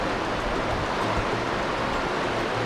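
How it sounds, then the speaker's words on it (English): A waterfall rushes nearby as a steady, dense roar of falling water with no breaks and no voices. "Don't go over the waterfall."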